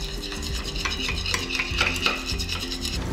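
Eggs for a plain Korean steamed-style omelet (gyeranjjim), just egg with salt or water, stirred in a hot pan with a steady scraping rhythm over a soft sizzle of frying, close up and without voices.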